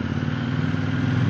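A KTM Duke 790 motorcycle is ridden with a steady, loud engine drone and road noise. There are no breaks across the short stretch.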